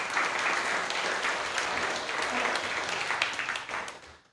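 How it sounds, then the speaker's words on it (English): Dense, sustained applause from an audience at a Story Night storytelling event in Bremerton, Washington: a full wash of clapping that holds steady for several seconds, then fades out at the end. "Give yourselves a round of applause"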